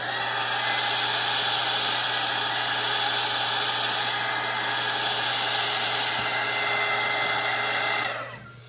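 A hair dryer blows steadily on a watercolor painting between layers, a loud continuous whooshing whine that runs without a break before cutting off and fading at the end.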